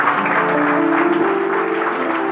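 Church congregation applauding and praising the Lord during an evangelistic service, a steady dense wash of clapping lasting a couple of seconds with voices mixed in, loud and close.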